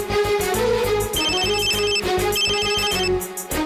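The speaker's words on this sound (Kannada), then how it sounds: "ಲೇ ವಿಟ್ಲ, ಆ ಕಿರಾತಕಂಗ್ ಫೋನ್ ಹಾಕೋ." A telephone rings after a call is placed, a loud electronic ringtone repeating in short bursts in a steady rhythm, with no talk over it.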